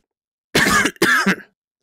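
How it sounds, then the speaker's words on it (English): Two harsh coughs in quick succession, close and fairly loud, followed by silence, in the VR game Wrench. "That's a nasty cough."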